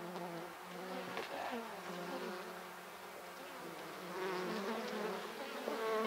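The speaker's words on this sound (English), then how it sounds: "There have got to be thousands upon tens of thousands of bees on this hive alone." A honeybee swarm of many thousands buzzes at a heavy, loaded hive coming through a ceiling, a dense, steady, wavering drone of wings, fairly faint and continuous with no talking.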